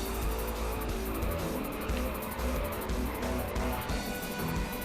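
A basic car races in the Alcatraz course of Rush The Rock Alcatraz Edition on GameCube, with a continuous loud engine roar, game music and tire squeals as it drives.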